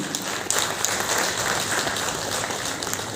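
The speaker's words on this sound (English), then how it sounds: "Can we have a round of applause, ladies and gentlemen?" An audience at a business conclave in a hotel applauds an honoree, a continuous, fairly loud patter of many hands clapping without anyone speaking.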